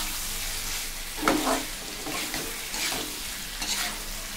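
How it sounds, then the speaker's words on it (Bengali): Pointed gourd (potol) fries in a pan with a little sugar, a steady sizzle with a few stirring scrapes, moderately close and without talk. "এখন আমি সেই পটল আমি কিন্তু ছেড়ে দিলাম। আবার এবার আবার কষাতে হবে।"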